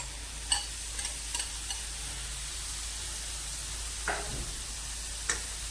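Paneer is stirred into an oily gravy in a kadhai, with a faint steady sizzle under a few soft scraping taps of the spoon against the pan.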